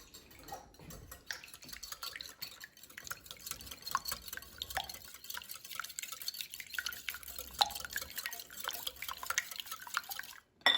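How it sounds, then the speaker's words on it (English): Eggs seasoned with salt and pepper are whisked in a bowl for an air fryer omelette, giving a close, fast run of light clicks and taps, steady throughout with no talking. "And I'm going to whisk the eggs."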